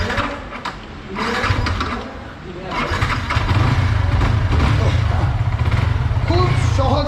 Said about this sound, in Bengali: এই শেষ। গাড়ি স্টার্ট দেন